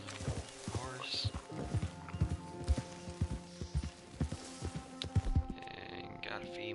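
Horse hooves in Red Dead Redemption 2 clip-clop at a steady walking pace, close and clear, with a brief snort or whinny near the end.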